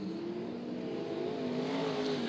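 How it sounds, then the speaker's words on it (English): Sprint cars race at Archerfield Speedway during an Easter Challenge C-Main, with engines roaring steadily down the back straight under a constant loud drone that rises slightly in pitch. "That is the Dan Murray car working the back straight away"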